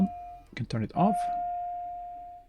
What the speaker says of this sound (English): that's the sound of the auxiliary boost pump